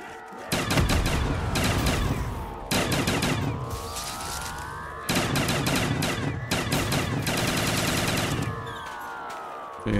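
Long bursts of rapid automatic gunfire from a weapon in Black Ops 3 Zombies, loud and dense, with brief pauses between strings and a rising whine beneath the shots.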